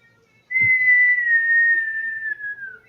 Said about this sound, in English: all suddenly you hear a strange whistling sound